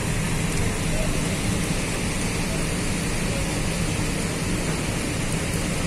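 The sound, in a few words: heavy rain at Tegal station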